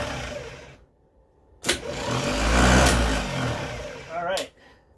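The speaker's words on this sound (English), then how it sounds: "Now the actual starter motor kind of sounds a little bit rough" A starter motor cranks a CAT V8 diesel in a Ford medium-duty truck, giving a rough, grinding whir that swells for about three seconds close by. A sharp click or clunk comes before it.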